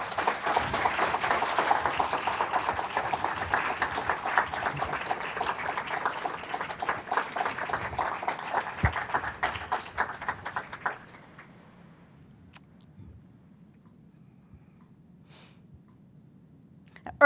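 Audience applause honoring a recipient of a distinguished university professorship at a presidential awards ceremony, a steady dense clapping for about eleven seconds before fading to quiet room tone.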